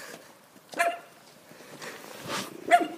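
A dog barking outdoors on a walk through a residential street, giving two or three short, moderately distant barks over a low background hum, with no one talking.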